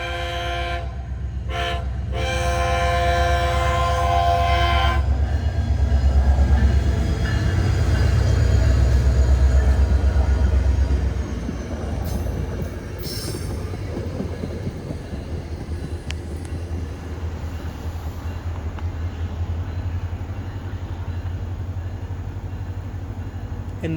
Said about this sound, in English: And another test train at Lake Beresford Road.